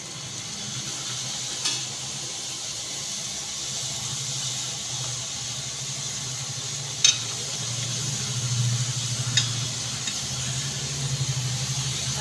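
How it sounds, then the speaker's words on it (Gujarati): Oil hisses and bubbles in a low steady sizzle as puris deep-fry until crisp, with a few faint clicks and no talking. "બધી પૂરી આવી રીતની તળી લેવાની છે"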